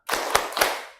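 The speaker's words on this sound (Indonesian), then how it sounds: "Sekarang tepuk fokus." A classroom of students claps a short 'tepuk fokus' rhythm in an Indonesian lesson: three sharp, close group claps in quick succession, loud and alone, with a brief ringing decay.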